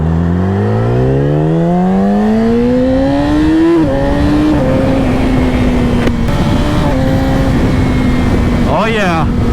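A 2020 Yamaha R6 sport motorcycle revving hard, its engine note climbing steeply, then settling and blipping repeatedly with a sharp rising rev near the end, loud and close over continuous road noise.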